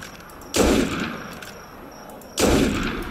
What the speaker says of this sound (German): So, der Schuss hat gereicht.